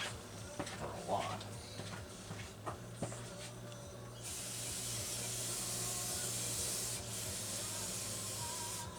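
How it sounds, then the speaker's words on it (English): Aerosol brake cleaner is sprayed in a long, steady, loud hiss onto a part of a Stihl 026 chainsaw during a crankshaft seal replacement, after a few clicks and handling knocks. "Blast that with a little bit of brake cleaner."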